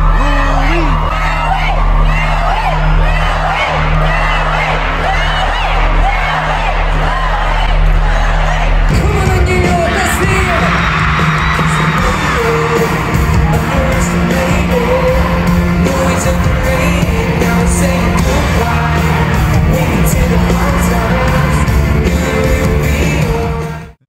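Fans at a concert in New York City, a loud, close roar of yelling and cheering that builds into rhythmic crowd chanting over a thumping low background.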